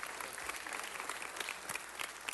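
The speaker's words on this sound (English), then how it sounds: "Let's give Brian Juarez a round of applause, ladies and gentlemen." A council meeting audience gives a short round of applause for Brian Juarez, a continuous patter of many hands heard at a modest distance, fairly faint and steady throughout.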